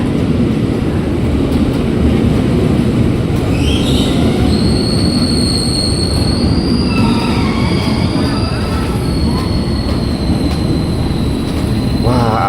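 A KRL commuter train on the Cikarang line pulls into a station at midday, its loud continuous rumble and rail clatter joined by high, sustained wheel squeals as it slows.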